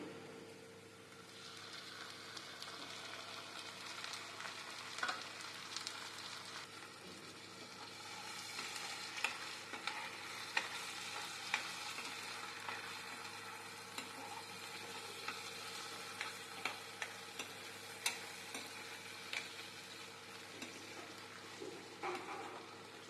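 Onions frying with tomato and green chilli pieces for a dried prawn gongura curry, a faint, steady sizzle with scattered soft crackles and occasional clinks of stirring.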